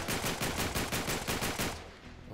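Rapid automatic gunfire in the video game Uncharted 3, a loud close burst of evenly spaced shots that stops abruptly and leaves a brief quieter tail.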